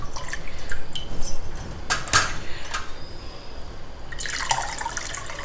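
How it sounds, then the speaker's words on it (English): Water drains from soaked rice and dal in a kitchen, with splashing and trickling bursts, a strong pour in the middle and another gush near the end, nearby and fairly loud. "Meanwhile, drain out the water from the rice and dal."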